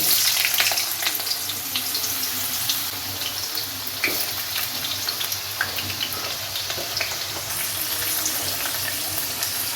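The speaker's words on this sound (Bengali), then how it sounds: "এবার আমি আলুটা পাঁচ ফোড়নের মধ্যে দিয়ে দেবো" Potato pieces fry in hot oil with panch phoron and dried red chillies, giving a loud, continuous crackling sizzle close up that stays dense and steady with scattered pops and no talking.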